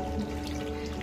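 Water poured over cut mango pieces in a pressure cooker makes a brief, steady splashing pour heard close up.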